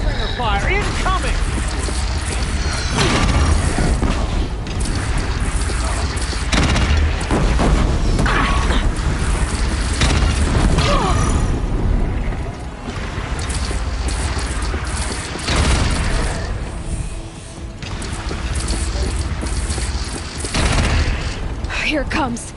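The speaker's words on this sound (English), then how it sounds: "Deathbringer fire incoming!" A Deathbringer machine fires in Horizon Zero Dawn: a dense, continuous barrage of booming blasts and mechanical clatter, loud and close throughout, with brief lulls between volleys.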